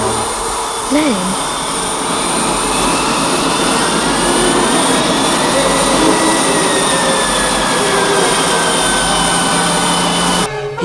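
A jet aircraft in a TV show comes in to land, a loud, steady roaring whine with high engine tones that holds for the whole stretch and cuts off sharply at the end.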